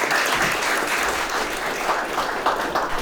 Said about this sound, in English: Round of applause for Patrick